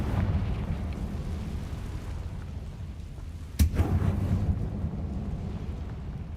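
A Confringo fire spell bursts in Hogwarts Legacy, a single loud explosive blast midway through that cuts through a steady windy, rumbling game ambience.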